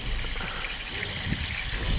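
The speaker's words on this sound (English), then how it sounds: "You can see the water flowing around those larger pieces of sediment" Water streams steadily around larger pieces of sediment in a homemade delta model, a continuous soft gushing and trickling with no pauses.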